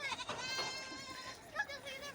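Goats bleating while grazing, several wavering bleats overlapping close by, with a voice talking underneath.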